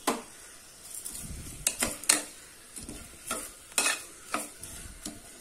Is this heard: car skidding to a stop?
no